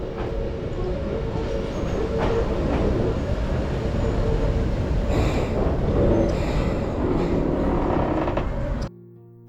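A Hakone Tozan mountain railway train rumbles steadily along the rails with a continuous heavy roar and faint clacking, close and loud, then cuts off near the end.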